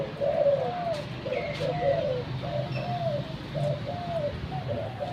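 Repeated low, soft dove coos in a rolling rhythmic pattern, fairly distant, over a constant outdoor hum with faint chirps from other birds.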